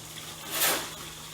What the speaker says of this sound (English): we're going to fill in the tank with water manually